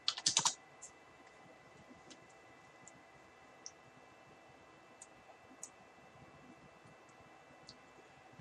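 Quick bursts of computer keyboard typing at the start as a password is entered, then sparse isolated key clicks scattered over quiet background hiss.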